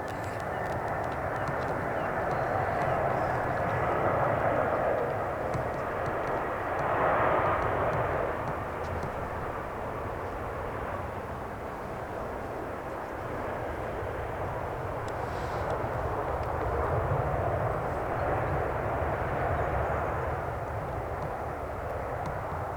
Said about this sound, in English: Here is an EasyJet now. Airbus A320-200, and this aircraft is 9 years of age.